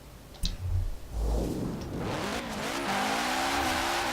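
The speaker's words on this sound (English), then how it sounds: "Now watch me try and drift the car now." A 1990 Subaru RS drifts in the racing game Forza Horizon 4, its engine revving and climbing in pitch while tires squeal through the slide, with a few thumps at the start.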